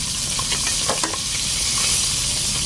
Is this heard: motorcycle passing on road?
no